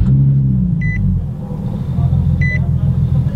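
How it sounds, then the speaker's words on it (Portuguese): A Nissan 370Z starting up: two short electronic beeps over a low engine rumble that settles into a steady idle, close and loud. "Vamos ligar o carro."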